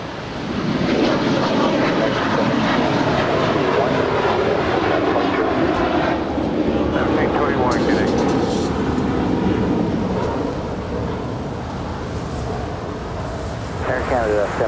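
A heavy Air Canada jet takes off at LAX, its engines making a loud, sustained roar that swells and then eases over about fifteen seconds, with a person talking throughout.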